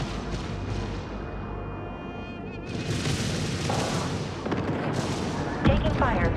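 Artillery and gunfire boom through a Homeworld 3 space battle, with dense bursts of shots and heavy blasts layered over a rumbling backdrop, growing louder and denser partway through.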